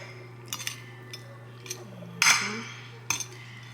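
A utensil scrapes and taps around noodles with butter in a pan, giving scattered metallic clinks and one longer scraping stroke against a low steady hum.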